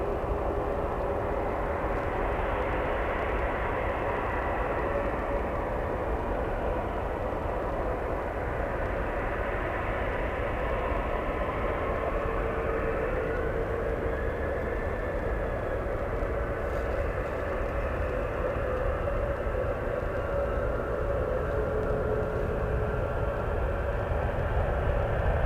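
A Swiss airliner bound for Zurich on final approach at San Francisco International Airport, a steady distant jet roar that holds level throughout with no talk.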